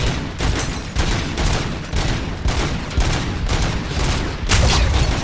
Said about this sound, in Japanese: なんか遠くからバンバン撃ってるやつが強えな